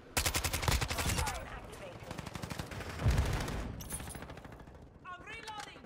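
Akimbo pistols in Call of Duty: Modern Warfare 2 fire in rapid, close volleys, a dense string of sharp shots in the first seconds and another cluster around the middle, with in-game radio chatter near the end.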